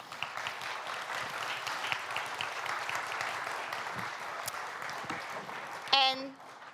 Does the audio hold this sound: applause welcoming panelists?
yes